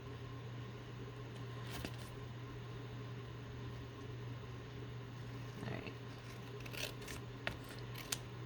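Scissors trim paper scraps for a tea bag ephemera craft: a few faint, quiet snips near the end over a steady room hum.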